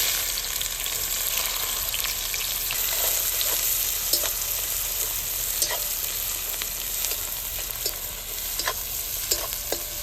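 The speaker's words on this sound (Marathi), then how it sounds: "तेल चांगलं गरम झालेलं आहे आता आपण मोहरी टाकू जिरे" Mustard seeds, cumin, onion and green chilli frying in hot oil for anda bhurji make a loud, steady sizzle, with scattered sharp crackles and pops throughout and no voices.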